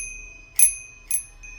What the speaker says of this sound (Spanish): toqué una campana oxidada que colgaba en aquel portón